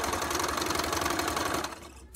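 A sewing machine runs through fabric in a fast, even mechanical chatter up close, continuing for nearly two seconds before cutting off, followed by a brief click.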